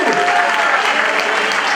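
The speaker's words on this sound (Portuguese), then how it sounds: "se serve um aplauso para Jesus" Church congregation applauding during a Brazilian Portuguese sermon: dense, steady clapping from a large crowd filling the room, continuous and loud throughout.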